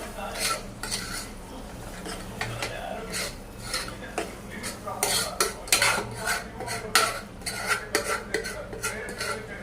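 A spoon scrapes and clinks against a pan as masala ingredients are stirred and mixed, with irregular close metallic taps and rubbing sounds at a moderate level and no talking.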